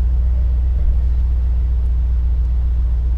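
The engine of a 2022 Mercedes G63 AMG G-Class in Sport Plus mode gives a steady, deep rumble heard from inside the cabin while cruising, a constant low drone with no talking.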